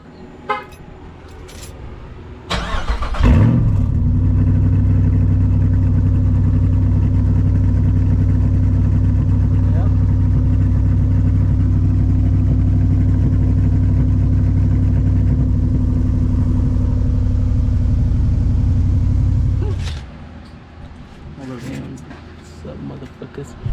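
A Jeep SRT8 fitted with a Corsa catback exhaust roars to life and holds a loud, steady, deep exhaust drone for about seventeen seconds before cutting off, with voices around it.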